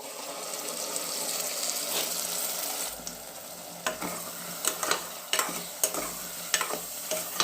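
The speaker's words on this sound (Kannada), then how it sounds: "ಇರ್ತಕ್ಕಂಥ ಹಸಿ ಸ್ಮೆಲ್ಲೆಲ್ಲ ಹೋಗೋವರೆಗೂ ಚೆನ್ನಾಗಿ ಫ್ರೈ ಮಾಡ್ಕೋಬೇಕು" Tomato masala paste frying in oil in a pan for stuffed brinjal, a continuous close sizzle followed by sharp spatula scrapes and taps as it is stirred.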